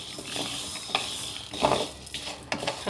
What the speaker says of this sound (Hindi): अब मैं इसे ड्राई रोस्ट कर रही हूँ